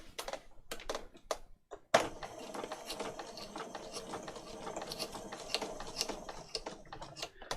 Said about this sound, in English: I'm just going to put my machine on to lock off at the beginning